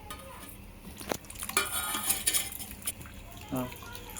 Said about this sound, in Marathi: आता आपण त्यांना स्वच्छ पाण्याने धुवून घ्यायचं आहे